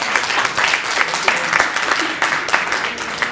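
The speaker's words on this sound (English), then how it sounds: "Please keep the applause to the minimum so we can move along" Applause from an audience at a park advisory committee meeting, a loud burst of many hands clapping in a hall with a few voices mixed in.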